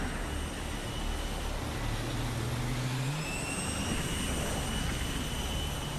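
A jet engine roars on an aircraft carrier deck, a dense, continuous loud blast with a whining tone that shifts pitch partway through, with no voices.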